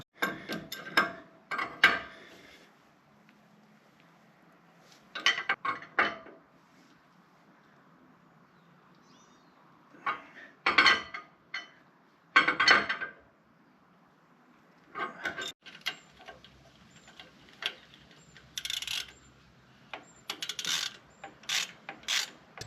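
Ratchet wrench tightening bolts on the suspension of a Jeep JLU Rubicon during an alignment, with several separate bursts of quick clicking ratchet strokes between quiet pauses, close and crisp.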